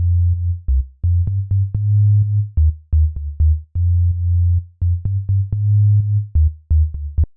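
Deep synthesized sub-bass notes from an Operator patch with the first oscillator's coarse tuning dropped pulse in a rhythmic pattern, loud and low, with short gaps and faint clicks between phrases; no voices.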